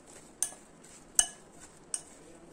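A spoon clinks three times against a bowl while raw banana pieces are mixed with turmeric, chili powder and salt, sharp isolated taps spaced under a second apart over quiet background.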